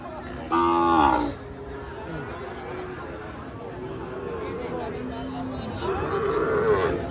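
Cattle moo loudly at a village cattle market where bulls and cows are sold ahead of Eid al-Adha, one strong nearby call followed later by another, over a steady hum of crowd chatter.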